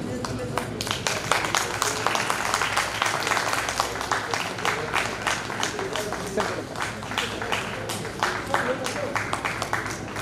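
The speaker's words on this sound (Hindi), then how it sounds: "ताली बजाओ तो" An audience at an alumni society meeting claps steadily and loudly for the full stretch, a dense, continuous patter of many hands.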